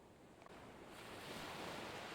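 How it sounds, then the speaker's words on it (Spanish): Ocean waves roll onto a shore, a soft wash that swells into a fuller, steady surge of surf with some breezy noise, no voices present. "De vez en cuando, una ola alcanza tus pies."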